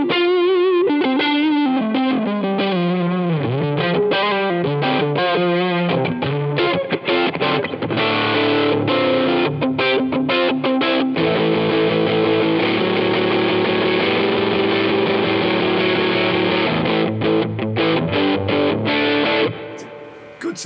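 An electric guitar played through a Line 6 AM-4 amp modeler on a Tweed-style amp setting, a distorted, effects-laden tone with melodic runs and sustained chords, loud and continuous for about twenty seconds.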